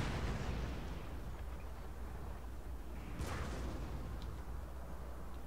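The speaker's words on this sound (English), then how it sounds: "How's the cannon doing?" Cannon artillery fire in the Napoleon: Total War video game, distant rumbling booms over a continuous low battlefield roar, with one sharper burst midway and no voices.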